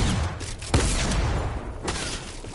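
Fortnite gunfire in a busy match, a few sharp close shots with booming tails spaced across a couple of seconds, loud over a noisy game background.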